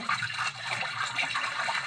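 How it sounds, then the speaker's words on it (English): A lavender bath bomb is broken up into a bath, giving a steady close wash of fizzing and splashing water for about two seconds with no talk. "You take your bomb, and then you're going to go ahead and break it up into the bath."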